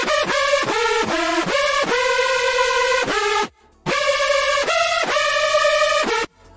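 A bright synth lead plays a run of short, punchy staccato notes, a few carrying an added chorus shimmer triggered by velocity, loud and alone with one brief pause.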